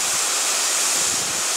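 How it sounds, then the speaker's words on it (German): The Leuenfall waterfall gives a steady, dense rushing hiss of falling water, heard close and continuous throughout the short stretch with no talking. "sehen wir den wunderbaren Wasserfall"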